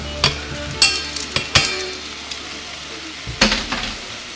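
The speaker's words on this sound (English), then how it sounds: "I'm going to maybe turn it down a little, medium low, and I'll just keep stirring that." A utensil stirs food in a pan on a stove turned down to medium low, giving scattered scraping clinks and knocks against the pan over a soft background hiss.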